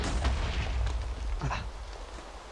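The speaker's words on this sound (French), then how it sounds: "Bravo, Nuno, faut aussi activer la dernière TNT." TNT blocks explode in the video game Minecraft, a series of booming blasts mixed with rumbling pops over about two and a half seconds, moderately loud.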